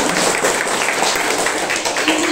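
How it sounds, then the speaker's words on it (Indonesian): Schoolchildren at an elementary school Ramadan class clap their hands together in a dense, loud, continuous burst of applause, close by, with some voices mixed in. "Tepuk tangan dulu, Ustaz"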